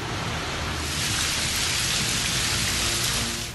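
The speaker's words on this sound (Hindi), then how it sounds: "मुल्क भर में बारिशों का सिलसिला जारी है।" Heavy rain pours down steadily in a thunderstorm, a dense, loud, continuous hiss of rain on surfaces with low thunder rumbling underneath throughout.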